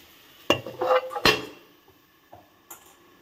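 Metal lid set onto a cooking pot with water, two sharp clanks close by followed by a short rattle and faint later clinks.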